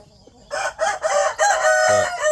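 Rooster at a Thai cockfighting-bird yard crowing loudly and close by, a single drawn-out crow of about two seconds over a quiet background.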